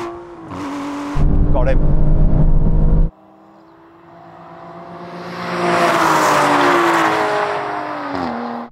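An Aston Martin engine revs hard in a drag race, a loud burst of roaring acceleration followed by a quieter lull, then a rising, climbing engine note that swells and fades; a voice speaks briefly over it.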